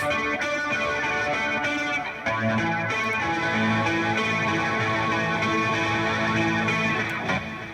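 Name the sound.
electric guitar with distortion effect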